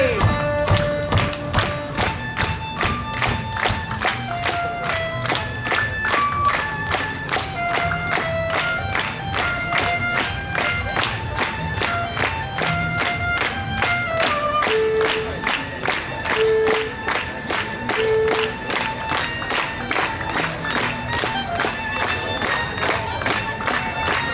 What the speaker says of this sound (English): Clap along with me!